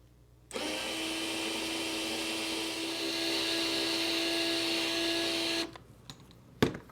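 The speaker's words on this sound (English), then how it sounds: "I'll break out the Proxxon screwdriver that I use as a drill now because I like it." A Proxxon electric screwdriver used as a drill on a Matchbox 70B Grit Truck restoration gives a steady, fairly loud whine for about five seconds, then stops, followed by a few light clicks and a knock.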